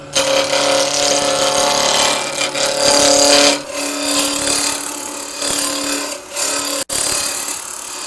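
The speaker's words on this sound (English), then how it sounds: "We're going to make it out of a piece of walnut that we've got here on the lathe." A walnut blank about 6 inches long and 3 inches square spins on a wood lathe, giving a loud, steady motor hum with scraping and rubbing cutting noise throughout, briefly cutting out near the end.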